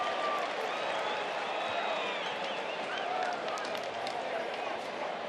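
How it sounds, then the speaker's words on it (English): A stadium baseball crowd at a Twins–Rangers game buzzes and cheers steadily in the distance after a 99 mph pitch, a continuous low roar heard faintly. "The crowd get excited over 99."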